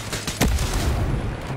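Rapid gunfire crackles in a naval war video game, dense bursts of shots with one sharper close report, loud and continuous over the short stretch.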